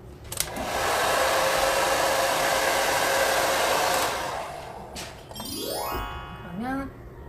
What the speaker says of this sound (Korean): 성격이 급해서 드라이기로 켜버렸어요, 말을 하면서.